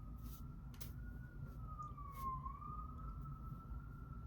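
A siren wails faintly in the distance, its single tone rising and falling slowly over a low background rumble, with no talk.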